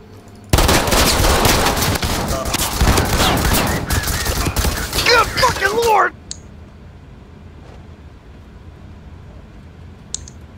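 Automatic gunfire in the tactical shooter Ready or Not roars in dense, rapid bursts for about five seconds, then cuts out to near silence with only a couple of faint clicks.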